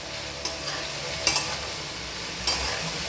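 Okra is stirred in a pan on the stove, with a soft continuous sizzle beneath a few light scraping taps of the spoon against the pan.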